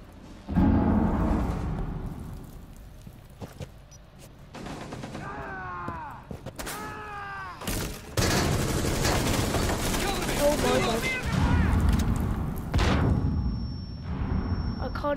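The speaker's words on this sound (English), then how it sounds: "That's a grenade." A video game firefight, with a grenade blast and bursts of rapid gunfire. Sharp booms and crackling shots come in clusters over steady background noise and grow louder and denser midway through.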